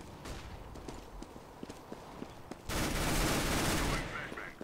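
Rapid P90 submachine gun fire in the shooter game CS:GO, dense bursts of shots with a louder sustained volley midway, mixed with faint game ambience and footsteps.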